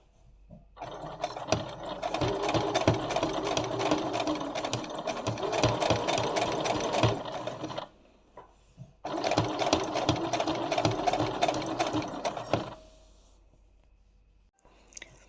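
A sewing machine stitches a quilted wax fabric placemat, running in a steady loud whirring burst for about seven seconds, a brief pause, then another long run before stopping, with no talking over it.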